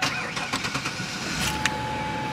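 A manual BMW 335xi cranks briefly on a jump box and catches, firing into a steady idle, heard up close with no talk.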